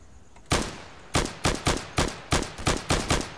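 Gunfire in the tactical shooter game Insurgency: one loud shot, then a run of seven sharp, evenly spaced rounds, each with a short decaying tail, close and prominent with no talk.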